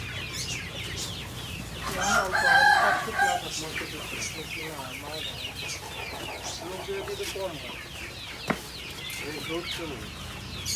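Chickens cluck and call over a steady background hum, with a brief louder crowing-like cry near the start and one sharp click later.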